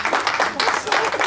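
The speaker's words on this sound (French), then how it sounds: "Par vos applaudissements" Audience applause at a French-speaking gathering, dense clapping with cheering voices mixed in, loud and close, in short surging bursts.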